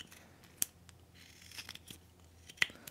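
A whittling knife making soft cuts into basswood while carving a rainbow trout, heard up close as two crisp slicing snicks separated by quiet scraping.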